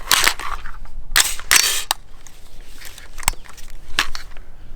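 Sharp rifle shots crack out during a descending distance shooting drill, several in an uneven sequence, some in quick pairs, with quieter gaps between them.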